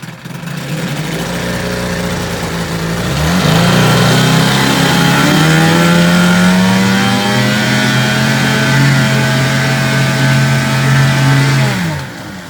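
A 1983 Johnson 15 hp outboard motor runs in a test tank, a loud steady buzzing drone that climbs in pitch as the throttle opens after a few seconds, holds high, then drops back before cutting off.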